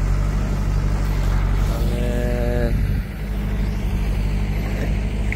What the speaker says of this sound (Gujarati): ટ્રેક્ટર આપણું